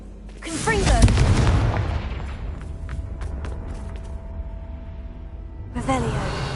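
Confringo blasting spell from Hogwarts Legacy: a sharp explosive burst that booms loudly and then decays over a couple of seconds, followed by quieter clicks and a second burst near the end, with a voice speaking over it.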